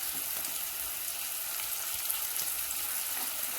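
Pea curry frying in a pan after chili powder goes in, a close, even crackling sizzle that holds steady throughout with no voices.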